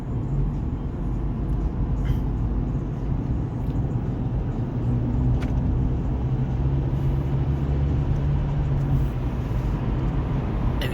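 Car driving on a snowy day, a steady low road and engine rumble heard from inside the vehicle, constant and fairly loud with faint occasional clicks.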